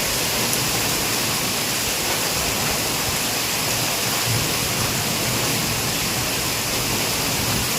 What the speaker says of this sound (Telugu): నేను ఒకసారి అయితే మీకు వినిపిస్తాను ఎంత ఫుల్గా వర్షం పడుతున్నది అనేది